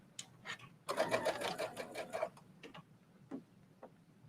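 Brother sewing machine stitching fabric in a rapid mechanical run of ticking needle strokes, close and clear, followed by a few isolated clicks.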